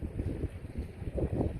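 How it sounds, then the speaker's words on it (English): Strong gusts of wind buffet the microphone on a countryside walk in the UK, a steady low rumble swelling and easing with louder bursts near the end, with no voices. "It's very windy, sorry."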